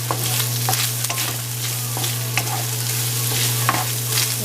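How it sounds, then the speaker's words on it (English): Half an onion frying in a pan for chicken fried rice: a steady, loud sizzle with a low hum beneath and scattered spatula scrapes and taps throughout, no talking. "Okay, so I'm going to add my onions."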